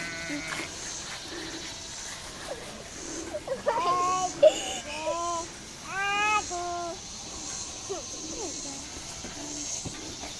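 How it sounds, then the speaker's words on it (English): Sheep bleat on a farm pasture during hot-weather grazing, several wavering calls overlapping in the middle of the clip at moderate distance, with faint background noise and a brief voice nearby. "Yeah, sheep."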